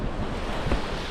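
Sea waves wash onto the shore in a steady, low, rushing roar, mixed with gusting wind buffeting the microphone, with no voices.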